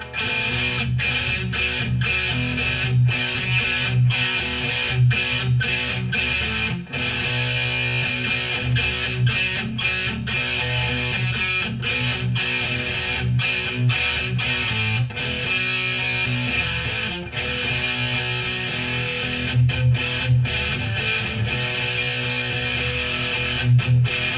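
Electric guitar driven through a Tube Screamer overdrive pedal into a Plexi-style drive, steady crunchy distorted riffing with firm bottom end, sustained and loud throughout with brief pauses between phrases.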